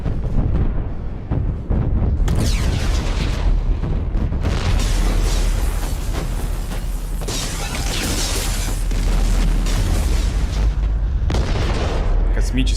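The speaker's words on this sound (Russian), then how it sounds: "Космические взрывы самые красивые." Space explosions in the video game Mass Effect 2 form a loud, sustained stretch of booming, rumbling blasts and mechanical roar that runs continuously throughout without letup.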